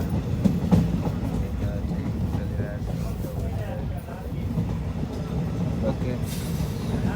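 Inside a passenger train travelling toward Jammu and Kashmir, a continuous low rumble of wheels on rails with a soft rhythmic rattle, close and steady, with voices talking over it.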